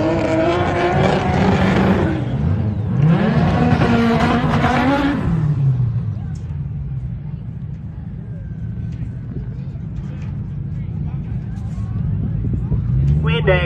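Race cars at the Kotor motorsport event roar past in two loud sweeping bursts of engine noise, then fade to a distant rumble with crowd chatter and announcements over it.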